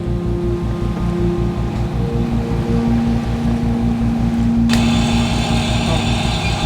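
A boat's motor drones steadily at six knots with a low, pulsing throb and wind noise, loud and close throughout, joined by a brighter hiss near the end.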